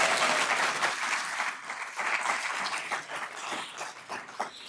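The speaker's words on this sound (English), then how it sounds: "Round of applause." A conference audience at an innovation showcase applauds, dense steady clapping from many hands in a large room, slowly thinning toward the end with no voices.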